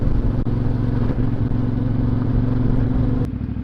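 A CFMoto 450MT Ibex motorcycle rides along an outback road through a rocky gorge, its mid-range engine droning steadily and close with a constant tone, plus a couple of brief clicks and clatters, and nobody speaking.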